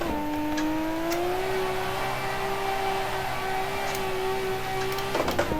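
All-wheel drive car drifting in a VR driving sim game, engine holding a steady, slightly rising whine throughout, with brief scraping or clicking bursts near the end.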